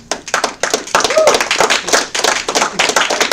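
A comedy club audience claps in loud, close, choppy bursts, mixed with voices and crowd noise throughout.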